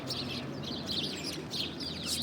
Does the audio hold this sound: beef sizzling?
no